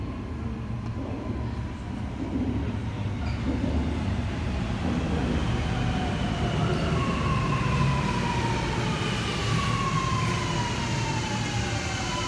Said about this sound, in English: The train to Tallawong is going to enter platform number 2.